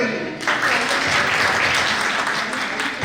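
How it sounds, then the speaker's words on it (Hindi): Loud, dense applause from an audience at a Republic Day celebration held by a senior citizens council in Delhi, starting suddenly and continuing steadily near the microphone. "जोरदार तालियां।"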